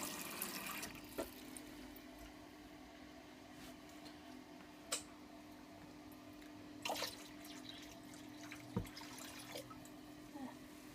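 Water trickles faintly into a homemade apple and grape wine brew, with soft drips and pouring splashes over a low steady hum.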